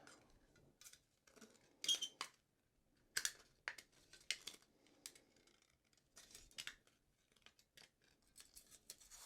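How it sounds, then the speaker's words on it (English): Sharp metallic snips and crinkling cuts as scissors cut around an aluminum cat-food can, in irregular bursts, close by, with short pauses between cuts and no talking. "We need to take our scissors"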